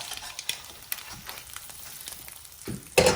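Eggs frying in a pan, a quiet, steady sizzle with faint crackles and a couple of sharper utensil clatters near the end, no talking.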